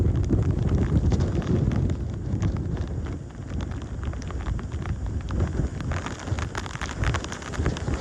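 Strong tropical storm wind buffets the microphone in a steady, loud low roar with gusty surges, continuous throughout with no voices, recorded on a boat near Tulum.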